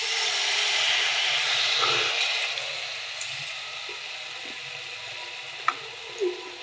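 Pitha batter poured into very hot oil, a steady bright sizzle and crackle that gradually eases, with a few soft clinks and taps of a utensil near the end.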